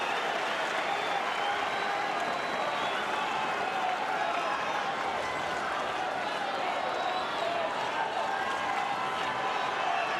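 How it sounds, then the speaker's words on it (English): A stadium crowd at the 2017 Australian Open final between Federer and Nadal rises in sustained, loud applause and cheering, a dense roar that holds steady throughout, with faint speech underneath. "The crowd rise again to these two great champions"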